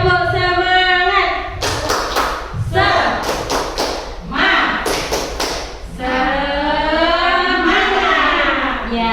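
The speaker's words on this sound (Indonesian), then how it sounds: "Tepuk semangat." A primary class 5 group in an Indonesian classroom performs tepuk semangat, sharp bursts of rhythmic clapping in three short clusters, alternating with group chanting voices.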